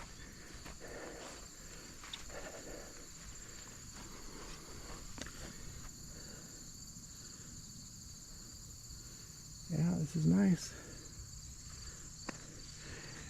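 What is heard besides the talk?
crickets and other bugs chirping in a park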